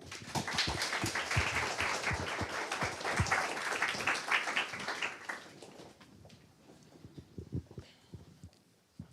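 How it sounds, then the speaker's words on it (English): At a challenge final event, an audience claps for a presenter walking on stage, a dense burst of applause that thins after about five seconds into scattered claps. "A big round of applause for him."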